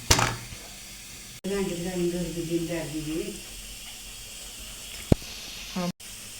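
Oil heats in a pan for village-style stuffed brinjal, giving a faint, steady hiss and sizzle beneath a voice, with a couple of sharp clicks.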